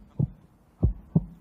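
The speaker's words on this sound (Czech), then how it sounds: "Tak poprosíme bušení srdce," Three soft, low thumps of a heartbeat sound effect played at an awards show, spaced unevenly over a second and a half, alone with no talking.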